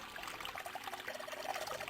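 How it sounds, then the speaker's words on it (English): Water trickling from a knobless faucet in a puzzle game, a thin, steady pouring stream with faint bubbling, soft and close. "Hey, water's filling up."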